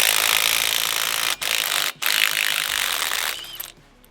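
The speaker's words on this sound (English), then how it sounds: "33mm socket on that axle nut." Ratchet with a 33mm socket working on a trailer axle nut during a wheel bearing job, a loud close rapid clicking whir broken by two short pauses, then trailing off.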